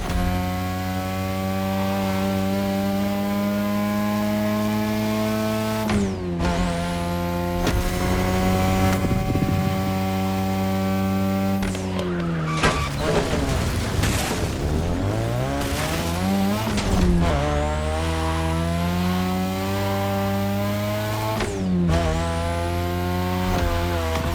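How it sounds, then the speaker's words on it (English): A 2002 third-generation Mazda RX-7 with a rotary engine drives in the racing game The Crew Motorfest, its buzzing engine droning loud and continuous, climbing through revs and dropping at repeated gear shifts. "is a 3rd Gen 2002 Mazda RX-7. Lightweight, compact, a sick rotary engine, and one hell of a look."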